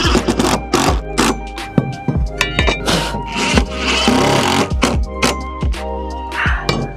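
Screws are driven into wood with a power driver, several sharp whirring bursts with clicks and knocks between them, close and loud, no speech.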